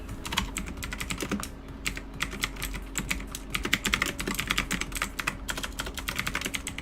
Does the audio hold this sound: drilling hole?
no